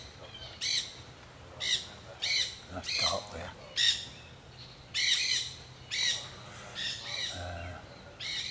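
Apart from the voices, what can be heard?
crows calling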